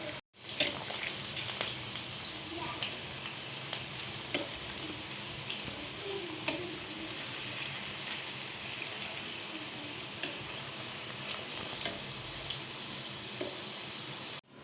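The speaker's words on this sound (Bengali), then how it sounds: "এখন আমি আলুগুলি এভাবে ভেজে নেব।" Potatoes sizzle and crackle in hot oil in a pan, a steady, fairly quiet frying hiss running throughout with occasional soft pops and no talking.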